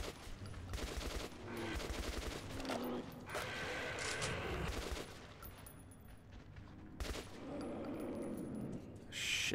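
Rapid bursts of gunfire from Metro 2033 fill the scene, loud and sustained, mixed with mechanical clanks and rattles of weapon handling, with brief lulls between volleys.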